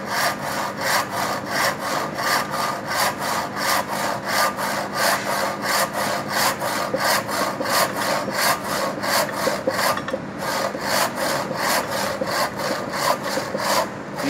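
Hand saw cutting wood, a steady rhythmic rasp of back-and-forth strokes, roughly two per second, close and continuous throughout with a brief pause near the end.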